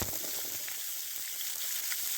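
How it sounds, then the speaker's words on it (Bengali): Chopped onion and garlic fry in a pan with a loud, steady hiss and crackle, close up and continuous, with small pops scattered through the sizzle. "পেঁয়াজ কুচি দিয়ে দেবো আর রসুন কুচি দিয়ে দেবো, দিয়ে খুব ভালো করে একটু ভেজে নেব"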